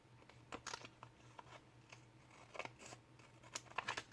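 Scissors cut through paper in several short, crisp snips spaced irregularly over a quiet background. The cutting sounds close and faint.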